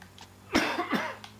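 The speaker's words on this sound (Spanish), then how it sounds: "Y tosiendo, ojo." A few harsh coughs close by in the racing video game Wreckfest, two main bursts about a third of a second apart, then a faint trailing rasp.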